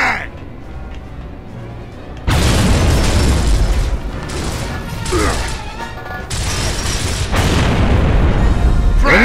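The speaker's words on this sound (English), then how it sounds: "Throwing frag." A frag grenade blows up in the game Gears of War with a sudden heavy, booming blast, followed by several more loud rumbling explosions and gunfire that fill the scene at close range.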